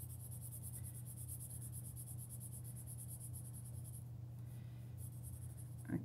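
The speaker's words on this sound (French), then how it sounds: "Donc, je vais colorier en brun" A cylinder shape is coloured brown on paper with faint, steady scratchy strokes over a constant low hum, with no voices.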